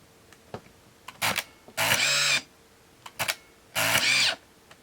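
Mechanical clicks followed by two longer whirring bursts of a Canon Sure Shot Supreme 35mm point-and-shoot camera motor advancing film, with pauses between, close up and fairly loud.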